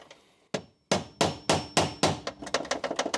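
A tool taps on a bolt in a car's lower battery tray, sharp metallic knocks starting slow and evenly spaced, then quickening into a rapid run of lighter taps, close and clear.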